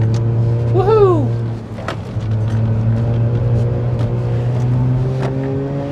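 A 2003 Mazda RX-8 with a naturally aspirated rotary engine climbs a steep hill, revving up in a rising whine before settling into a steady drone, loud and close from inside the car.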